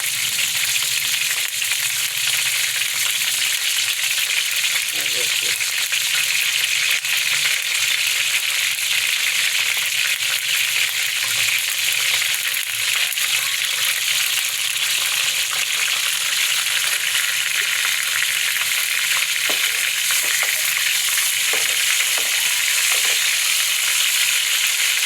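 Cumin seeds and whole dried red chilies sizzle in desi ghee for a dal tadka, making a loud, steady, hissing fry that continues without a break.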